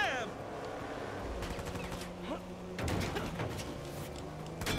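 Rapid gunfire bursts from a Uncharted 4 firefight, sharp repeated shots scattered across the scene amid clattering action, with a voice talking over it.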